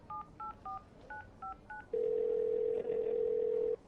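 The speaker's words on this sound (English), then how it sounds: "Louise reached for her phone and dialed the number she had saved." A phone number is dialed: six short touch-tone beeps in a quick, slightly uneven sequence, then a long steady tone that breaks briefly and resumes, clear and alone with no talking.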